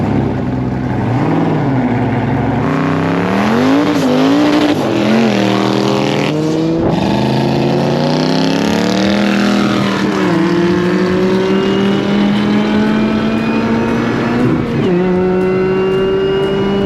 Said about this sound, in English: it's got a side pipe and it sounds pretty angry